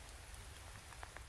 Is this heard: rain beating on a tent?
yes